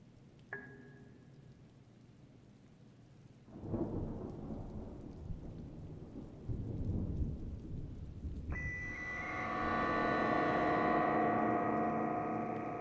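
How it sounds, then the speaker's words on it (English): Thunder and rain in the video game Little Squirrel Cabin: a sharp crack, then a long rolling rumble that swells again, then steady rain hiss with a rising electronic tone, no talk. "Oh, there's a thunderstorm now too?"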